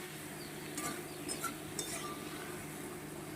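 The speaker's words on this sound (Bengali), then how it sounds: "এইভাবে নাড়তে নাড়তে এটা হয়ে যাবে" Lote fish bhuna is stirred in a pan, with quiet scraping and a few faint metallic clinks of the spatula over a soft sizzle.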